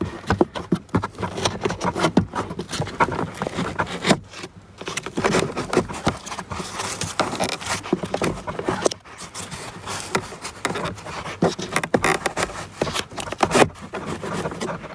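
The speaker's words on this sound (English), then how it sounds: "Sorry about the noise and the scraping noises you can hear." Scraping and rattling of plastic parts while a car cabin filter is pulled out, a steady clatter of scratches, knocks and rustles at close range, busy and continuous with a few short pauses.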